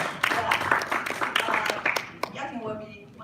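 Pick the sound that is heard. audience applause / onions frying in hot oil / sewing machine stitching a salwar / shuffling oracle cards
audience applause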